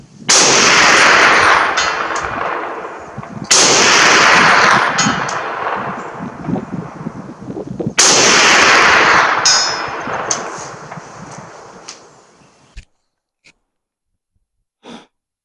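Three loud .30 carbine shots from an M1A1, each followed by a long ringing decay as the round strikes a steel target 300 yards downrange, then a few faint distant pings.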